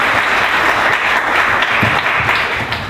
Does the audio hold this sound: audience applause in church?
yes